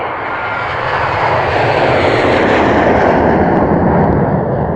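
An airplane roars loud and close overhead, a dense, steady rushing engine noise that swells slightly and holds for the whole stretch.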